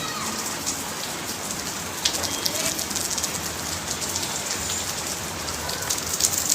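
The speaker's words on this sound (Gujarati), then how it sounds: "વરસાદ ચાલુ છે" Steady rain falls and patters on a surface, a continuous even hiss with scattered drops throughout.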